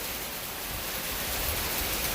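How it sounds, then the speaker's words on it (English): Hail mixed with rain falls outside in Steuben County, a dense, even hiss of countless impacts that stays steady and broad, close and moderately loud, with no voices. "We have hail coming in, you guys."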